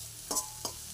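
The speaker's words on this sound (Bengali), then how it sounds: "ভালোভাবে মিশিয়ে নিচ্ছি।" Food is stirred and mixed in a frying pan during home cooking, with two quick scraping strokes over a low background hum.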